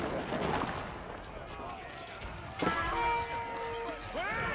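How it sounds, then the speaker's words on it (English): In Age of Empires IV, archers carry out a rapid-fire ground attack, producing a busy clatter of battle impacts and thuds with a ringing tonal burst midway, heard beneath someone talking. "I love that rapid fire attack that they have."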